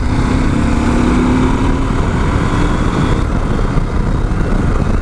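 A KTM 790 Adventure R motorcycle engine drones loudly and steadily as the bike accelerates to overtake, mixed with constant wind rush and a faint rising tone.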